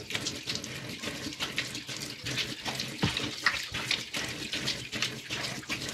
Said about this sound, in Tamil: ஸோ இப்போ நான் ஃபேஸ் வாஷ் பண்ணி காட்டுறேன்.